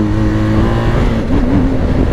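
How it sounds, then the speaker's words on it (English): BMW R1250GS Adventure motorcycle engine revving hard for a small wheelie, a loud, steady close-up roar with the pitch rising and wavering near the end. "A little wheelie, just a little wheelie for the KTM guy."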